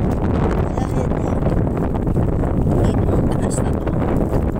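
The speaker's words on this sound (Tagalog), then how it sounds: "malakas ang ulan, malakas ang hangin." Typhoon Aghon lashes a sea dike with heavy rain and strong wind, a loud, constant roar of gusts buffeting the microphone and pouring water, close and unbroken throughout the clip.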